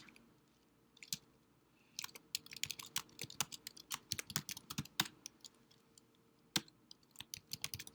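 Irregular bursts of typing on a computer keyboard, crisp close key clicks that come in quick clusters with short pauses between them, in a quiet room with no talking.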